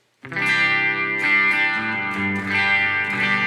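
Sustained chords on a 2015 Gibson SG Standard electric guitar played through the bridge pickup, bright and distorted, ringing loudly with slight chord changes and no voices.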